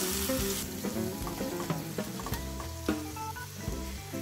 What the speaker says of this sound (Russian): И быстро все перемешиваю.